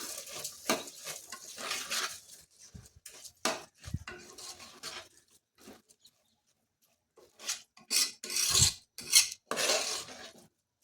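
Washed rice being mixed in a pan for palak rice, with intermittent scraping and clinking of a spoon against the pan in short bursts separated by quiet pauses.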